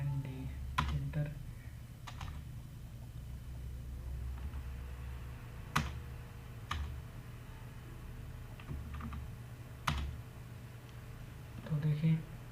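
Typing on a computer keyboard while entering a function into MS Word, heard as scattered clicks and short bursts of keystrokes under a steady low hum, with a person talking now and then.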